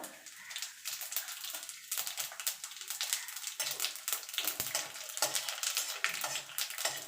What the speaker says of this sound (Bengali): এখানে খানিকটা জিরে আমি ভেজে তুলে নেব।